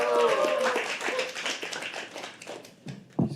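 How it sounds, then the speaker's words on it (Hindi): An audience claps at a live poetry open mic in a venue, dense applause fading gradually under a host's voice speaking over it. "can we have a huge round of applause for our next act?"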